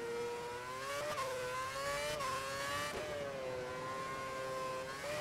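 A Formula 1 car engine in the F1 2011 video game at Singapore screams at high revs, holding a steady tone with brief dips and rises at gear changes, loud and continuous with no talking.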